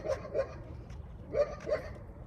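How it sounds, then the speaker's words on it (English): Dogs bark in two quick pairs of muffled, moderately distant woofs separated by a short pause, heard over low background noise without speech. "These dogs always hollering at Diva, yo."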